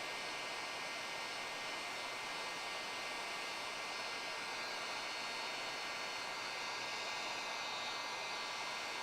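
A heat gun blows hot air onto window tint film on a Mercedes CLA 250, giving a steady, close, breathy whoosh that holds at the same loudness throughout without a break.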